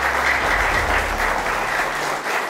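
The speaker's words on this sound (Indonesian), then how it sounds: "tepuk tangannya boleh" Studio audience clapping loudly and continuously, a full, even burst of applause from a crowd that tapers slightly at the end.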